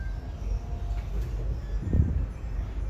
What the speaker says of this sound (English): right now we're in the train